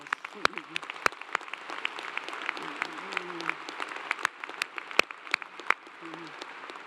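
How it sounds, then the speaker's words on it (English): Audience applause at a Clemson University fall commencement ceremony, moderate and steady with scattered sharper claps, heard from a distance in a large hall, with faint voices underneath. "I think all of you deserve a great big round of applause."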